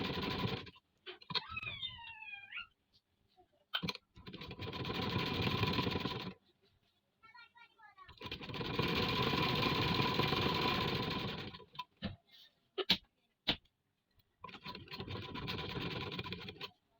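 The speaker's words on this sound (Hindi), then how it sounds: "इस तरह सेट करके आपने इसमें किनारे की सिलाई लगानी है।" Sewing machine stitching along the edge of fabric for a daman design, running in three long loud bursts of rapid whirring, separated by pauses with clicks and the faint squeal of fabric being shifted.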